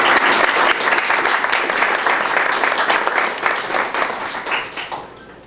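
Loud audience applause for young leaders at a South African embassy event, dense clapping from a roomful of people that swells and then gradually tapers off.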